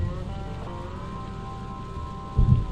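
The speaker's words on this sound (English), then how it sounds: "and it's raining" Steady rain falls during a road trip, a continuous hiss with a low rumble underneath and a brief louder thump near the end; no talking.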